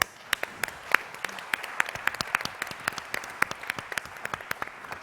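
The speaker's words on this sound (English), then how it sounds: "So please give them another warm round of applause." A conference audience claps for a panel on governments, markets and ending poverty, producing a steady mix of scattered sharp claps over softer background applause.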